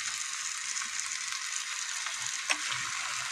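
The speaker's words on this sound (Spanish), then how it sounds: "Ahora lo voy a dejar a que se empiece a saltear muy bien." Vegetables with tomatoes and salt sizzle and sauté in a hot pan, a continuous crackling fry close by, with one brief stir clink and no talk.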